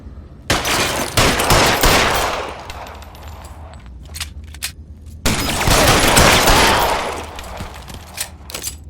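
Sustained bursts of automatic gunfire in the video game L.A. Noire, two long loud fusillades separated by a few scattered single shots, close and dense with echoing booms.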